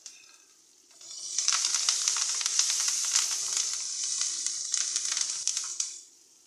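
Spices tempering in hot oil for a bottle gourd and chana dal kootu give a loud, steady sizzle that bursts in after a quiet second and crackles evenly for about five seconds before dying away.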